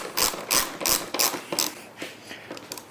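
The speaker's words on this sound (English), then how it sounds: "We're going to go ahead and tighten up that middle one. Tighten up our 2 outside bolts." Ratchet wrench tightening bolts on a motorcycle fairing, a series of rhythmic clicking pulls close up, each burst a quick ratcheting rasp, fading to lighter clicks toward the end.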